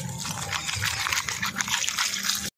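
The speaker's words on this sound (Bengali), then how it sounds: "এবারে মাছটা একটু ধুয়েলি, সুন্দর করে ধুয়ে নেব" Tap water running steadily over fish being washed in a village kitchen, a close, continuous trickling and splashing stream with no voices.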